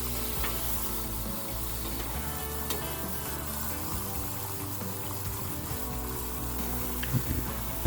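Steak pan sauce with red wine vinegar sizzles loudly and steadily on a Blackstone griddle as it is stirred, a close, continuous frying hiss with faint scraping, no talking.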